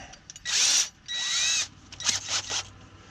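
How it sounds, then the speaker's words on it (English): A power drill with a 1-inch paddle bit whirs in two short high-pitched bursts, followed by a few shorter, choppier spurts of drilling close by, inside a camper van. "So I'm using a 1-inch paddle bit."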